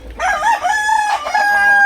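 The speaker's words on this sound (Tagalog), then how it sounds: "Ito yung manok na pandigmaan." A fighting rooster crows once, loud and close, a single drawn-out cock-a-doodle-doo with no talk over it.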